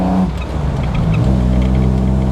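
A restored and upgraded Jaguar XK140 engine pulls hard out of a corner, a deep, loud, steady drone that rises in pitch as the car accelerates, heard close with no talking.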